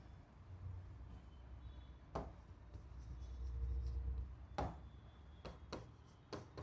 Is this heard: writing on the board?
yes